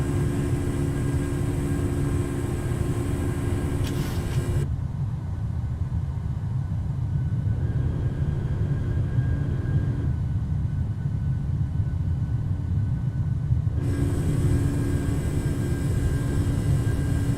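Boeing 737-800 jet climbing out after takeoff in Microsoft Flight Simulator: a steady, loud engine roar and rumble with a constant high whine that drops away briefly in the middle, with no voices.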